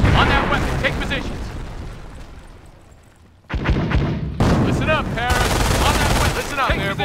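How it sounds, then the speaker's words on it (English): Rifle and machine-gun fire rattles in dense bursts with booming impacts in a Company of Heroes battle set in Normandy at Carentan, loud and continuous apart from a brief drop, with game voices shouting over the combat. "Rifle fire."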